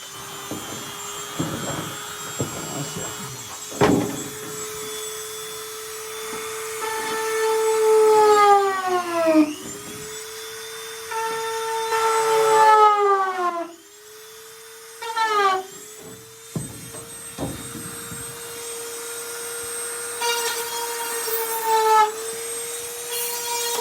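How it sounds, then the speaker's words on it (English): An electric drill bores two holes for the front body mounts of a car body, its whine rising and falling in pitch through several close, loud passes with short pauses between them. "by drilling the two holes for the front body mounts"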